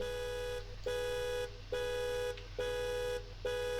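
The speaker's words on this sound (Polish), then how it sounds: "Jest alarm." Car alarm in the BeamNG driving game, sounding as a loud, steady electronic honking tone that repeats in even bursts about once per second with short gaps, and nothing else heard.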